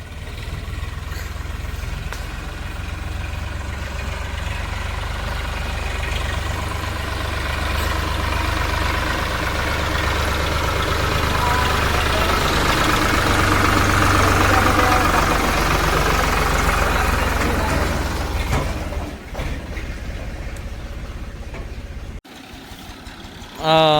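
Several farm tractors idle together outdoors, a steady low rumbling drone with faint knocking that swells slightly mid-way, then drops off near the end.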